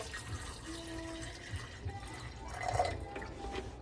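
Water pouring into a jug for V60 pour-over coffee, a soft steady trickle and filling sound with faint drips, quiet and close.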